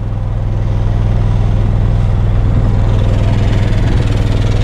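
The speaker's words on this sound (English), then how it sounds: "Now our generator is still running, okay?" A generator runs on a 2019 Newmar Bay Star 3626 motorhome, heard up close as a loud, steady low hum and rumble that holds throughout with no talking.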